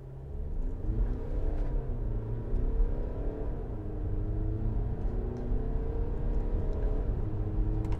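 A 2022 Škoda Kodiaq Sportline with a 2.0 TDI diesel, DSG gearbox and four-wheel drive accelerates hard from a standstill, a steady engine drone climbing in pitch through the gears over cabin rumble for several seconds.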